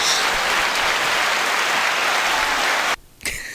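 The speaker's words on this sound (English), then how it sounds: "I got applause early." An audience applauds and cheers for a podcast guest taking the stage, a dense, loud clatter of clapping that cuts off abruptly near the end before a short trailing burst.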